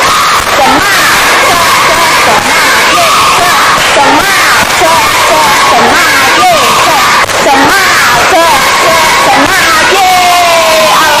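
Primary-school pupils in a fifth-grade classroom perform a rhythmic clapping chant, many young voices shouting loudly together over bursts of claps, with excited cheering throughout.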